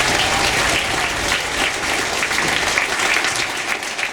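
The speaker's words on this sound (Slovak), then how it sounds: "Váš veľký potlesk patrí účinkujúcim žiakom" Audience at a folk benefit concert applauding child performers from a folk music and dance ensemble, a loud, continuous roar of clapping from a large hall that holds steady before easing slightly at the end.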